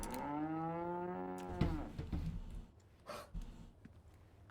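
A cow in the Resident Evil 4 remake gives a long, loud, drawn-out moo that ends abruptly, followed by quieter thumps and rustling game sounds.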